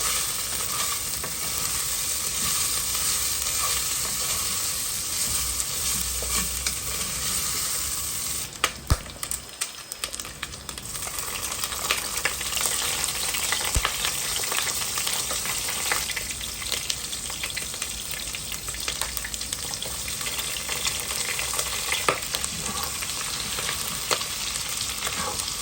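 Chicharon, onion, garlic and ginger fry in hot oil in a pan, a steady broadband sizzle running the whole time with occasional stirring scrapes and a brief clatter near the middle, and no talking.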